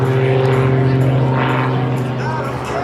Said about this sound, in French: Il s'agit d'un Extra 330 SE pour Short Cockpit.